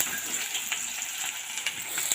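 Chopped onion frying in hot oil with a little sugar in a wok, a steady close-up sizzle with small crackling pops and no talk.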